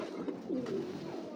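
A large female pigeon and its mate coo softly nearby, a few low rolling calls rising and falling against a quiet background with no one talking.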